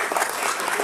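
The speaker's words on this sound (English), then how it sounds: "a couple people are clapping" A few people clap sparsely in a short, thin burst of scattered hand claps.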